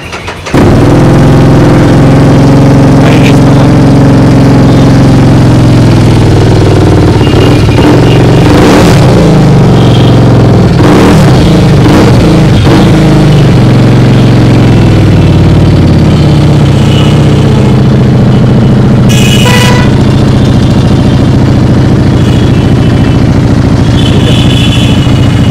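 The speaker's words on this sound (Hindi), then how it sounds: "पहले आवाज़ सुन के बताओ पहले बाइक की आवाज़ अच्छी है कि नहीं।" A Benelli 600i motorcycle fitted with an aftermarket exhaust starts and idles loudly up close, with several sharp throttle blips and revs rising over its rumbling idle before settling back down.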